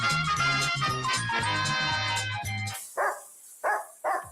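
Music plays in a pet wash radio ad and cuts off, followed by three loud, close dog barks spaced evenly apart.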